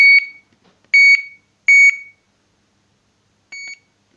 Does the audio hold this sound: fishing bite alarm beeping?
yes